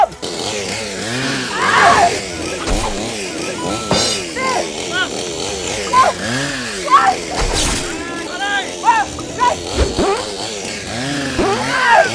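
A Rowel 5800 chainsaw engine revs and idles in uneven bursts while people talk loudly over it.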